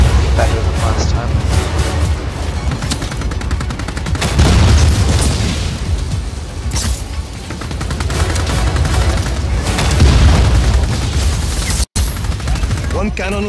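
Repeated explosions and booming blasts as cannons are destroyed in the video game Just Cause 4, loud and continuous with dense rumbling bursts and crackling gunfire-like impacts throughout.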